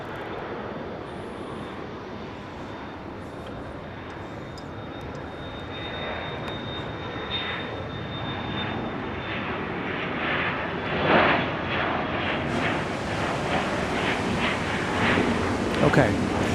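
A jet airliner takes off from runway 31 right at Dallas Love Field, its engine roar heard from a distance as a broad, steady rumble that slowly swells, with faint talk.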